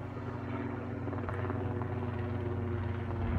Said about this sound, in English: I know that's a government chopper.